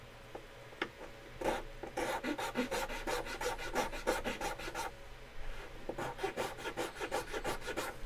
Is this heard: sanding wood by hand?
yes